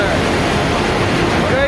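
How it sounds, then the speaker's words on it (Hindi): Powerful crashing waves from a flood surge roar in a thick, continuous rush of water noise, loud and close, with wind buffeting the microphone. "लहरों ने ऐसा कहर बरपाया कि देखते ही देखते एक विशालकाय इमारत इन लहरों में समा गई"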